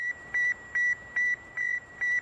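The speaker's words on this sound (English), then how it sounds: "You are hearing the actual signals transmitted by the Earth-circling satellite" A steady series of clear electronic beeps from the Sputnik satellite's radio signal, six short tones at a regular pulse over a faint hiss, with no voices.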